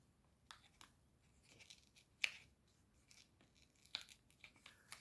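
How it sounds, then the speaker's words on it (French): Stickers being peeled off camping lamps make faint, intermittent tearing and crinkling sounds in short bursts, close up and quiet, with no talking. "C'est qu'une fois qu'on a retiré tous les stickers"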